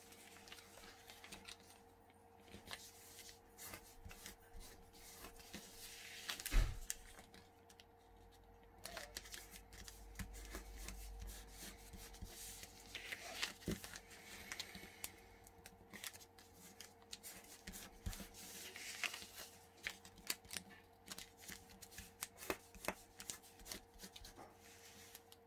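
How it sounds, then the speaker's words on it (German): Paper rustles quietly as a sheet is turned over and folded, soft scattered crinkles and creases with a few slightly firmer handling sounds, all faint and without speech. "Jetzt wendest du deine Arbeit wieder und faltest noch einmal einen Brief."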